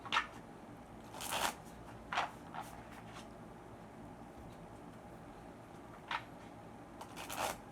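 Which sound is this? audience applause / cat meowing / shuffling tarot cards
shuffling tarot cards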